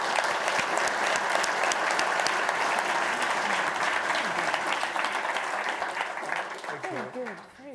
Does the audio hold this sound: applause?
yes